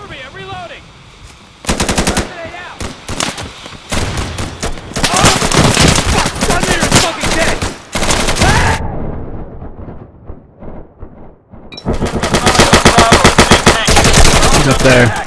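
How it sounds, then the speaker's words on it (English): Rapid M9 pistol fire in the video game Insurgency, loud close bursts of fast repeated shots broken by short pauses, with dense gunfire returning near the end. "I didn't know you could fire an M9 that fast"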